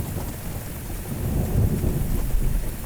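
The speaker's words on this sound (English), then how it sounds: "This is a miserable day for a battle. Just rain after rain after rain." Rain falls steadily with a low rumble of thunder swelling in the background, part of a stormy battlefield setting in the strategy game Grand Tactician: The Civil War; constant, enveloping weather noise with no voices.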